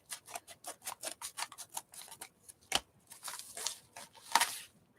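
Scissors snip open a package at a craft table in a quick run of crisp, close cuts, then a few slower, sharper snips after a short pause.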